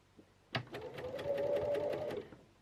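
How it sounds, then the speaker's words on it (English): Sewing machine stitching along fabric piping, starting with a backstitch: a short sharp start, then a steady close whirring run for about a second and a half with a rapid needle rhythm before stopping. "So I'm going to just backstitch at the beginning."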